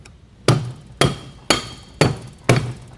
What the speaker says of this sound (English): It's okay to use a rubber mallet, don't use your metal ball peen, and just give it a little smack.